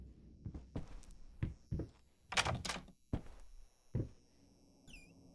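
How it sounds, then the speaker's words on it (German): A locked door in the horror game Layers of Fear rattles and thuds several times in a row without opening, a series of heavy knocks and jolts with a louder scraping burst in the middle, no voice heard. "Wieso geht die Tür nicht auf?"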